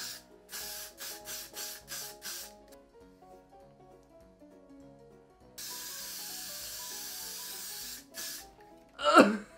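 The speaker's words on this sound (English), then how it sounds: "I'm just gonna put hairspray in my hair and then see if we can make it pointy." Hairspray from an aerosol can hisses onto hair in a quick burst of short sprays, followed after a pause by one long continuous spray, close and fairly quiet, ending with a brief vocal sound.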